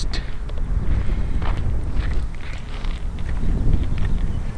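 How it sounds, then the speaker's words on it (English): Strong wind buffets the microphone outdoors before takeoff of a radio-controlled aircraft called the Beast, a steady low rumbling roar with gusty swells lasting throughout and no other clear sounds. "A little windy today"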